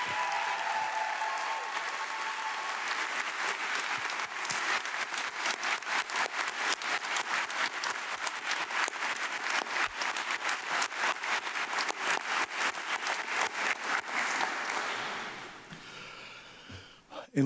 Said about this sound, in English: So let's have one more round of applause for our graduates.